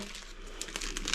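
A Ziploc plastic bag crinkles and rustles close by in a short burst of handling.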